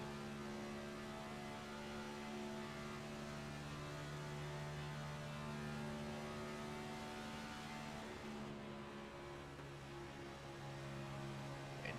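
On board car 81 on an oval at Texas, a race car engine drones loud and continuous, then eases off briefly near the end as the driver lifts on corner entry, with a constant whine over the roar.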